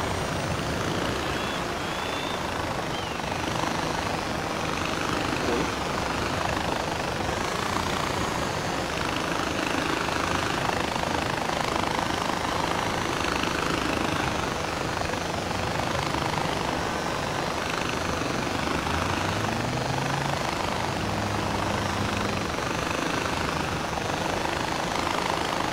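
Helicopter in the video game Far Cry 4, a steady rotor and engine drone holding at an even, moderate level throughout, with no talk over it.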